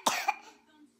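A sick child gives a single hard cough with a quick second burst, close to the microphone, then fades into a short breathy tail.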